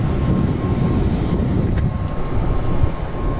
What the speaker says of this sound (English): There's our little propeller plane.